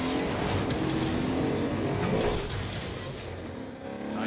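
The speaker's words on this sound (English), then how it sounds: "That van almost hit me." A van drives past in the video game Agents of Mayhem, a loud, steady engine roar with rushing road noise that eases slightly toward the end, with no talk.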